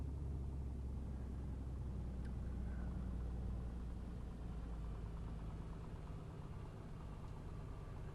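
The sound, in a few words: Piper PA24 Comanche engine at low power, video game Flight Simulator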